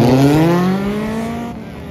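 A race car engine roars past nearby, loud and revving with a falling pitch as it moves away over about two seconds, with no voices.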